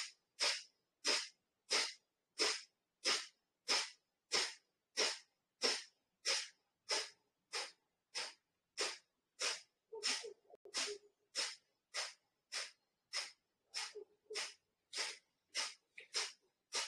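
Rapid kapalabhati pranayama breathing during an online yoga class: forceful nasal exhalations pulse about once per second in an even rhythm, close and clear, continuing for the whole stretch with only faint movement noise in between.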